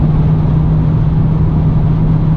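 A Renault Logan with a CVT drones at full throttle on the highway, a loud, constant engine hum dominated by one steady low tone mixed with road and cabin noise, holding the same pitch throughout.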